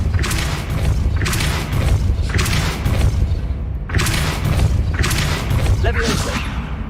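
Depulso spell blasts from Hogwarts Legacy, a video game, land as a series of heavy booming thumps, roughly four or five spaced bursts, loud and close with rumbling tails between them.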